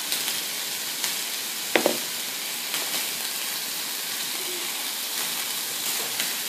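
Vegetable medley browning in a stir-fry pan, a steady close sizzle and hiss that runs throughout, with a few sharp clatters of stirring near the start.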